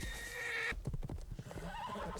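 A horse whinnies loudly at first, then snorts and shuffles in short uneven bursts, close by and with no one talking.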